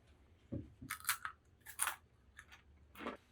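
A crunchy fried ramen snack made from Jin Ramen noodles is bitten and chewed close up, giving several sharp, crisp crunches in an irregular rhythm against a quiet background.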